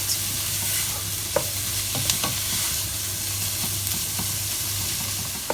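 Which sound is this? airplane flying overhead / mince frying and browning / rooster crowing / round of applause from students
mince frying and browning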